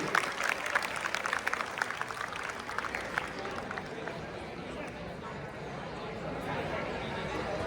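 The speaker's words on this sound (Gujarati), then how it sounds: "જોરદાર તાળીઓથી અભિવાદન કરીએ." An audience at a high school farewell and prize distribution applauds a top-scoring student with brisk, dense clapping that peaks early and then thins into a softer, steady patter, with a murmuring crowd and voices underneath.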